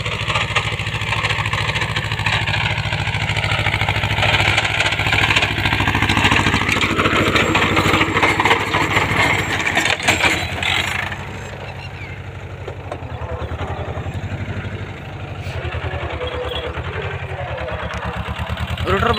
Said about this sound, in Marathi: इकडे आलेला आहे महिंद्रा जिओ 245 छोटा ट्रॅक्टर आणि इकडे आहे मोठा ट्रॅक्टर महिंद्रा 595